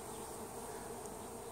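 Honey bees buzzing during a May hive inspection, a dense steady hum of many insects close by, continuous and even in loudness across the whole short stretch.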